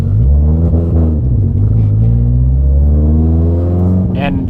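A Mitsubishi Lancer Evolution X with its stock engine, tuned to about 40 psi of boost and over 800 wheel horsepower, runs at a steady idle. The loud, close, rumbling drone holds evenly throughout.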